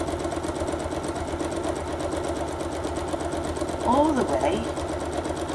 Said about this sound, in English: Put that under my needle, starting right off the edge. And do 1/4 inch seam